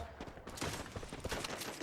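Rapid bursts of gunfire in the battle royale game Free Fire, a dense run of overlapping shots filling the short moment with steady, close crackling.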